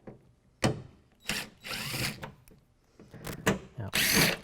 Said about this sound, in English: it's okay to take this out with an impact driver